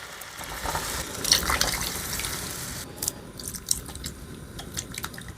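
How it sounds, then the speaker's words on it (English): Three cans of vegetables with their liquid are tipped into a cooking pot, a close, sloshing pour with splashes and drips that trail off into scattered plops. "I'm just going to go ahead and dump in these 3 cans of veggies like I mentioned with all the water"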